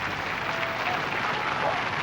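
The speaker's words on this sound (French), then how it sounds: "on applaudit Roberto fort encore" Steady applause from a game-show audience for a contestant, a dense even wash of many hands clapping throughout with some crowd noise mixed in.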